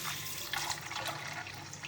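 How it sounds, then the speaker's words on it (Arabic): Hot water poured over soaking fava beans and chickpeas in a home kitchen, a steady close wash of running, splashing liquid that holds level through the moment with no talk. "هنضيف عليهم الاتنين مية سخنة بحيث ان هي تغطي السطح بتاع كل حاجة فيهم"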